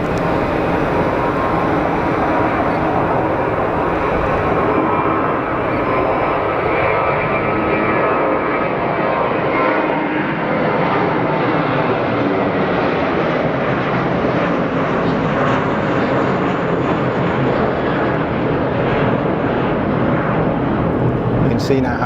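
A jet departing Geneva Airport roars loudly and continuously, its broad engine noise swelling and shifting in pitch as it climbs away over about twenty seconds.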